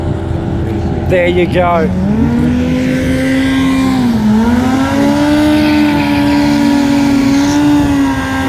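An Aprilia motorcycle drag racing at Perth Motorplex during bike night, a loud sustained engine drone with a rising rev sweep early on, a brief dip and recovery, over steady crowd and track noise, with a short spoken remark at the start.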